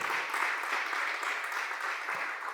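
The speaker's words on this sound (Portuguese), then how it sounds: "Vamos aplaudir esse Deus lindo." A church congregation applauding together during a service, a continuous, even wash of many hands clapping throughout, moderately loud and without speech.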